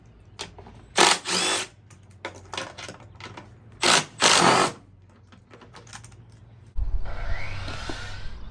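Bursts of a power tool backing out bolts on a 2012-2017 Jeep Wrangler engine, four short loud whirring runs with pauses between, followed by a steadier rustling handling noise near the end.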